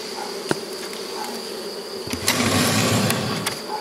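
Honeybees hum in a dense, continuous drone close by at a beekeeper's hive while frames are moved between Miniplus boxes, with a few sharp knocks and a brief rise in buzzing toward the end.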